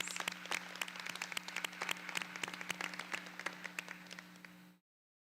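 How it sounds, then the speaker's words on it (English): Applause from a modest audience at a community college commencement, many distinct hand claps overlapping in a steady patter for about five seconds before cutting off abruptly, with a constant low hum underneath. "let's give both of them a big round of applause"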